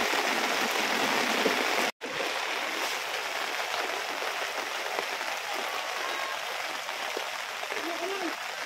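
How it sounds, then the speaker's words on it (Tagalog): Steady, dense hiss of rain pouring down on a flooded village street in Balagtas, Philippines, briefly cutting out near the start, with faint voices mixed underneath. "inabutan tayo ng ulan dito sa pating Bagong Baryo"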